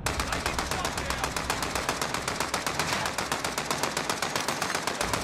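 The Owen submachine gun fires in Warzone, a loud, rapid, evenly spaced stream of shots running continuously and close up.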